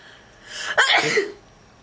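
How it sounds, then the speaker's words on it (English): A single close, sharp sneeze bursts out after a brief inhale, then quickly fades to quiet. "I have to sneeze so bad"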